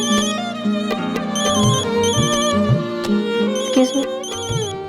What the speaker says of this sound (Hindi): ट्रैवल एजेंट का फोन है।